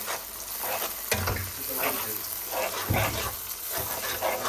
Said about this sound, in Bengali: তারপর চলে যাবে আদা রসুন বাটা এবার এটাকে একটু নাড়াচাড়া করতে হবে